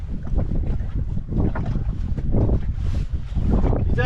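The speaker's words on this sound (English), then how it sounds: "The wind's blowing into the back of my boat." Wind gusting across a cold lake against the back of an anchored fishing boat, loud buffeting rumble with microphone wind noise and some water movement, continuous without speech.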